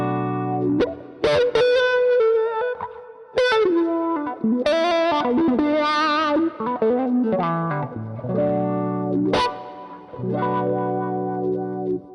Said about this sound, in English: Yeah, definitely way thicker, like such a meaty sort of wah sound.